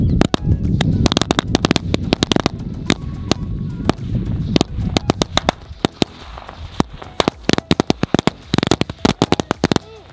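Sivakasi firecrackers from two full boxes set off outdoors among friends: a loud, rapid, irregular volley of sharp cracks and pops that thins into scattered bangs, with people talking in between.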